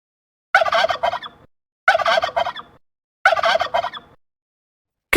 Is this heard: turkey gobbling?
yes